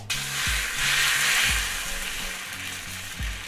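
Oil sizzles in a frying pan heated for tamagoyaki, a steady, fairly loud hiss that swells slightly and then eases, with soft repeating low tones beneath it.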